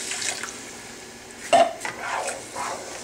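Hot shrimp stock poured into a pan of rice for shrimp and lobster rice, giving a short wet splash and stirring clatter against the pan, with a few softer liquid bursts following, close and moderately quiet.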